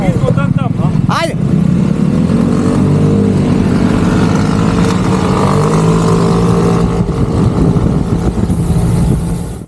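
KTM motor scooters race and accelerate, their engines droning loudly and continuously close by with rising revs, while voices speak over the noise near the start.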